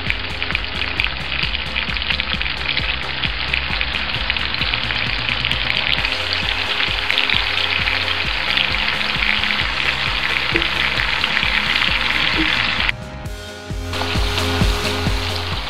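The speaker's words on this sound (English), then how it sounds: "So now I'm going to be adding the soy sauce." Shrimp and broccoli sizzling hard in a hot pan as soy sauce hits it, a loud steady crackling hiss that runs continuously, briefly dipping near the end before resuming.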